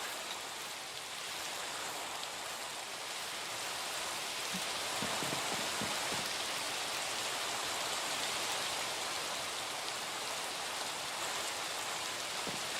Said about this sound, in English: Okay, now it's a day, but it's still raining.